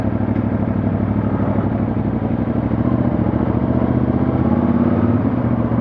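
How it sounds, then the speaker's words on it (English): A CFMOTO 450MT motorcycle engine rumbles continuously at a steady idle, close and loud, with a constant low drone throughout. "hopefully it's picking up a bit of bike noise as well as my voice"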